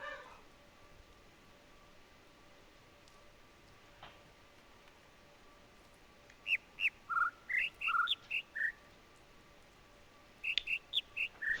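Birds in the video game The Witness chirp in two clear bursts of quick whistled tweets, fairly close and bright against a quiet ambient hum.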